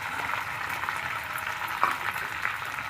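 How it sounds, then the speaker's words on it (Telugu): Onion pieces fry in a pan for a potato fry dish, giving a steady close sizzle and crackle with small pops throughout. "వీటిని ఇప్పుడు బాగా కలుపుకొని వేయించుకోండి"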